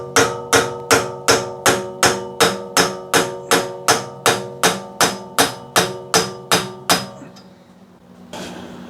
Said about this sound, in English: we're going to drive the axle in